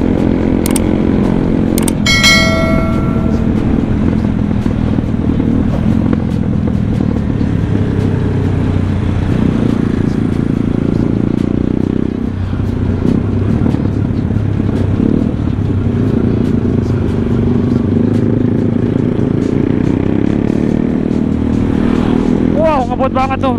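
Steady engine drone of a Kawasaki KLX motorcycle on a touring ride to Ciapus over rough, badly broken roads, running continuously and loudly with wind rush, while people talk over it.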